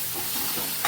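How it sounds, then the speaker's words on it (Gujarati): Water poured into frying masala of onion and chili in a pan for dal fry gives a steady, close, hissing sizzle that swells briefly at the very end. "થોડુંક આપણે પાણી એડ કરશું અંદર, કે મરચું ને એવું કંઈ દાજી ના જાય"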